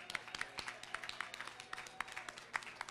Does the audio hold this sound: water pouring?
no